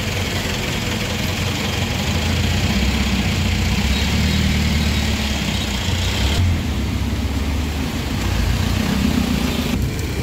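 Steady engine rumble of jeeps and other traffic on a highway in the Philippines fills the clip. A continuous dense drone of idling and passing vehicles runs throughout with no speech.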